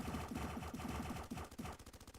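Gatling turret in a tower defense video game firing continuous rapid bursts of automatic gunfire, loud and steady, with rhythmic repeated shots that become choppier toward the end.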